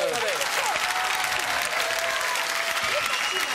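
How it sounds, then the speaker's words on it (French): Steady studio audience applause on a French television show filling the room, with a few voices and whoops rising above the clapping. "applaudissements pour Sophie Favier, mesdames, messieurs."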